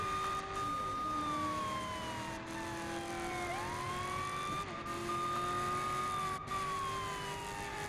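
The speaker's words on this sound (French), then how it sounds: "J'allume la sirène pour qu'on me laisse passer." A police car siren in a video game wails through slow rising and falling sweeps over faint traffic noise. It stays quiet but continuous across the whole stretch.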